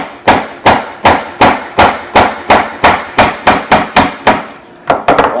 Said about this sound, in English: take your hammer and very lightly tap on the block